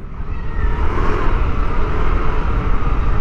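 Heavy road traffic at the Tayuman stop light, with a car engine revving and rumbling loudly and steadily up close amid the general roadway drone.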